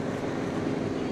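A boat's Corvette engine runs with a steady, loud, broadband drone and rumble, close up and unbroken, with wind noise mixed in.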